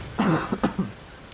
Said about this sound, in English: I need to cough quickly.